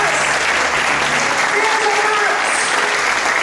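A church congregation claps together in praise, a dense, continuous wash of applause that fills the room without letting up.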